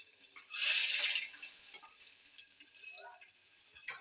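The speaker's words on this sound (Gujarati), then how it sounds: "લસણ અને લીલા મરચાં નાખીશું વઘારમાં લસણને બેથી ત્રણ કોળી દીધી છે અને આ શિંગદાણા નાખીશું આપણે" Peanuts hit hot oil with garlic and green chillies as tempering for vaghareli khichdi, giving a sharp sizzling burst that quickly fades to quieter crackles and faint stirring sounds.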